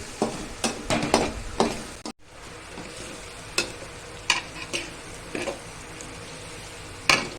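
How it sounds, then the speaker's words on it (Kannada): A spatula scrapes and knocks against a pan while tomatoes fry, a soft sizzle running underneath, with clusters of sharp stirring strokes early and scattered clacks later, close by. "ಇದನ್ನು ಸ್ವಲ್ಪ ಗೋಲ್ಡನ್ ಕಲರ್ ಬರುವವರೆಗೂ, ಟೊಮೆಟೊ ಬೇಯುವವರೆಗೂ ಕೈಯಾಡಿಸಿಕೊಳ್ಳಿ"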